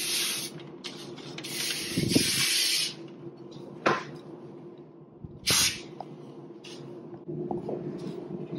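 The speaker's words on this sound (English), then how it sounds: "now we're going to be spraying parchment paper with vegetable oil" Several short hissing bursts of vegetable oil aerosol spray onto parchment paper, separated by pauses, with faint rustling and handling noises over a low steady hum.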